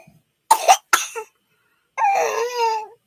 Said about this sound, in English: Yeah, you got that icky cough.